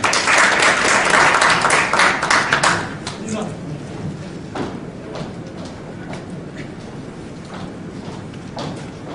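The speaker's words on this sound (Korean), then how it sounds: "큰 박수 부탁드리겠습니다." An audience at a Korea–ASEAN forum symposium gives a few seconds of dense applause, which then fades into room noise, scattered taps and a speaker beginning to talk.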